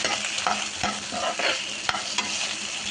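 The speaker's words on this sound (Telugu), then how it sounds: "ఇది బాగా ఫ్రై చేసేసుకోవాలి." Dried red chillies sizzle and crackle in hot oil in a pan for a peanut and chana dal chutney. The frying is steady and close, with a few sharp stirring scrapes and no voices.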